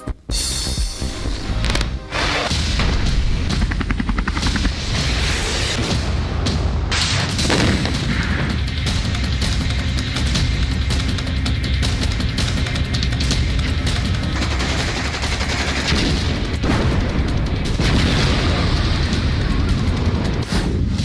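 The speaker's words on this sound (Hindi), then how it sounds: "रूस ने कीव के रिहायशी इलाकों को लगातार निशाना बनाकर मिसाइल से हमला किया जा रहा है" Russian missile strikes and explosions hitting residential areas of Kyiv, heard as a loud, continuous roar of booms and blasts with dense rumbling layers and no clear pauses throughout.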